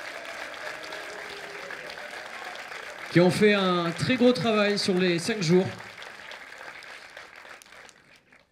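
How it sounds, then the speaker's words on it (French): Applause from an audience at a film festival's closing ceremony, thanking the volunteers. The clapping stays moderate in the background throughout while a speaker talks loudly over part of it. "applaudissements pour eux, s'il vous plaît."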